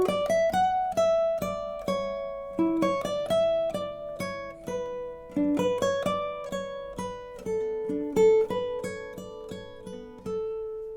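Classical guitar plays a romantic melody that outlines the chords in a higher position, plucked notes ringing over a backing track with a steady rhythmic pulse, clear and close with no voices.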